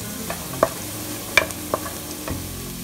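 Garlic frying in a pan, a soft steady sizzle with a few scattered clinks of a utensil stirring against the pan, no voices.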